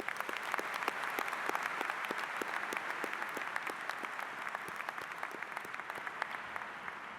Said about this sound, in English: Please join me in applauding this year's award recipients.